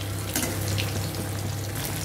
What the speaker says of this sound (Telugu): ఇలా ఒక రెండు చాప ముక్కల్ని ఫ్రై చేసుకుంటే సరిపోతుంది